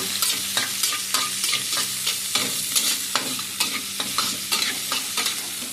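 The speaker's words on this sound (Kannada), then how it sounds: "ಇದು ಚೆನ್ನಾಗಿ ಫ್ರೈ ಆಗಲಿ" Salted jackfruit sukka frying in a pan with a steady sizzle under rhythmic stirring and scraping strokes, close and continuous.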